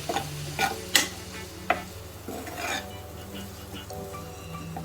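Ingredients dry-fried in a pan with no oil, a few sharp clinks and scrapes of a utensil against the pan over a faint low hum, close and quiet, with sparse stirring strokes.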